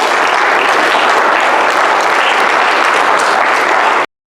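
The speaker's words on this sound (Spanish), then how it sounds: "Denle un fuerte aplauso al Señor" A church congregation claps loudly and continuously, a dense, even roar of applause that holds steady and then cuts off abruptly.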